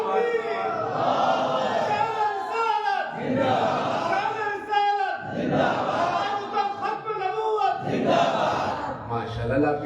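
A crowd at a naat recitation gathering loudly chants a religious takbir slogan in reply. Several powerful massed shouts rise and fall in a steady call-and-response rhythm, with voices filling the space between them.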